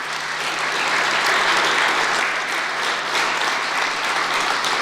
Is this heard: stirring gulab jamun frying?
no